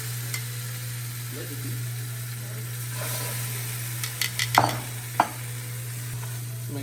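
Churro bites frying in hot oil give a steady sizzle under a constant low hum, with a few sharp clinks and scrapes near the end; a voice speaks briefly.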